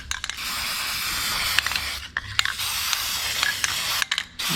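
A spray can lays a light coat onto a genie bottle in a workshop, a steady close hiss broken by several short pauses and faint clicks of the nozzle.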